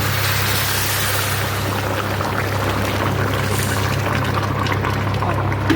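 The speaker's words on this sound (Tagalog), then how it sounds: "Ito guys, pwede na natin lagyan ito ng tubig." Water pouring into a cooking pot on the stove while meat feet cook for a matzbos laham dish, a steady close splashing rush running the whole time over a low constant hum, with no talking.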